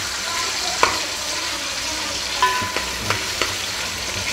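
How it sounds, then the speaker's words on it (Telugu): Ginger garlic paste frying in oil for chicken pulao: a steady soft sizzle throughout, with a few light clinks of a spoon stirring the pan. "అల్లం వెల్లుల్లి పేస్ట్ని కూడా ఆయిల్లో ఒక 2 నిమిషాలు ఫ్రై చేయాలి."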